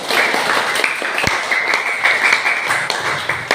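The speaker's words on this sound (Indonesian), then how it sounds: "Tepuk tangan buat Mbak Bilkis." A classroom of students gives a round of applause for a classmate's correct answer, a continuous close clatter of clapping hands with a few louder claps standing out.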